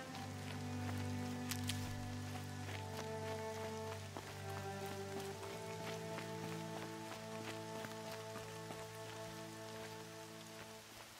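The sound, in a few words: rain in the video game Horizon Zero Dawn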